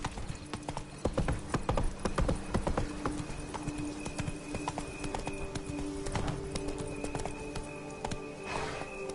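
Hooves of the horse Roach clip-clop steadily in The Witcher video game, a continuous rhythmic trot with distinct near hoof strikes and a brief whinny-like tone near the end, over soft ambient game sound.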